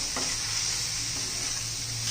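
Fresh coriander is mixed into a pan of traditional spicy onion chutney, a steady close sizzle with a few faint spoon scrapes, no talking.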